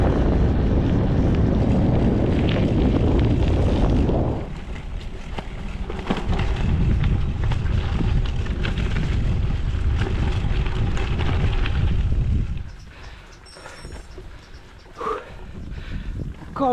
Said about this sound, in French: on a toujours le vent bien de face là